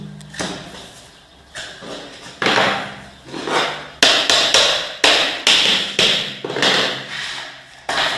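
Locking parquet floor boards are tapped into place, giving a steady series of sharp, loud wooden knocks. The strikes come close together, roughly every half second, near and alone.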